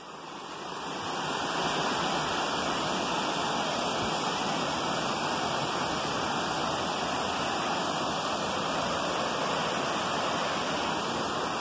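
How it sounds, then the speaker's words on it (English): White water pours over a waterfall or weir on the river at Holmfirth, a loud, steady, close rushing roar that swells in over the first seconds and holds without talk. "White water. Lovely waterfall. You can call it a waterfall or a weir."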